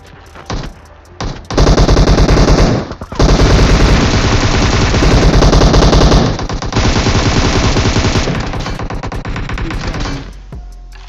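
Loud sustained automatic gunfire in a battle royale style mobile shooter match, long rapid bursts with short gaps, close and dominant, no talk over it.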